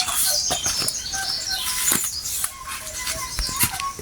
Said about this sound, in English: Beautiful sounds of the birds in the Homestead and the bamboo flute.